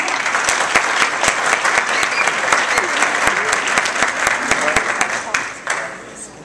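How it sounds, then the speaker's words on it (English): Sharp, distinct hand claps ring out in a round of applause from an audience, a fairly loud and steady rhythm of many hands that tapers off near the end, with faint voices in the background. "give a round of applause for it."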